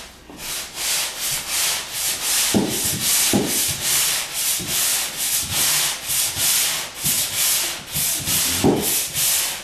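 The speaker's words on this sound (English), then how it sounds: "He's smoothing off the section where he had to cut the wall to rebalance the tub in there." Wall section cut open around a tub being sanded smooth, a steady, close scraping rub in repeated back-and-forth strokes with a few low knocks and thumps between passes.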